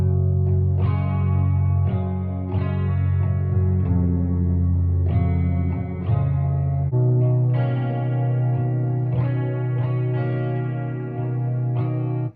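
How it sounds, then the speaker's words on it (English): Dreamy, reverb-soaked guitars in a song, sustained chords ringing out continuously and loudly over a full mix with no talking. "the dreamy tone of the guitars used, the reverb"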